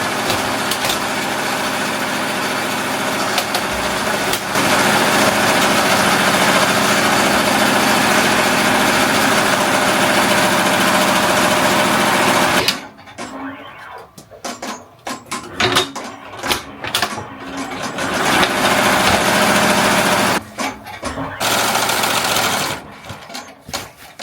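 An embroidery machine stitches a jacket at high speed, about 850 stitches per minute, a loud, steady, rapid mechanical chatter that stops abruptly partway through, leaving intermittent clicks and clunks before briefly resuming.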